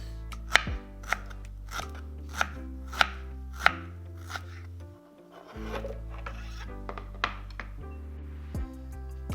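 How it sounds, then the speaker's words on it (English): A knife chops a thumb-sized piece of ginger into small pieces on a board, with a steady run of sharp, close chopping taps, a brief pause, then more taps. "Okay, so we're just gonna cut it to small pieces to blend it smooth"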